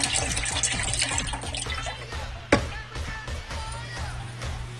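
Unsalted chicken broth pours steadily into a pot, a continuous close splashing and gurgling of liquid with a single sharp knock partway through.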